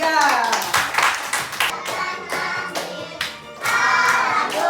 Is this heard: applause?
yes